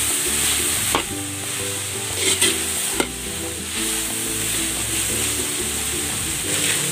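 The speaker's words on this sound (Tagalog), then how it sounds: "Igigisa ko na rin itong pork" Pork being sautéed in a pan sizzles loudly and steadily at close range, broken by a few sharp knocks and scrapes of a utensil stirring the meat.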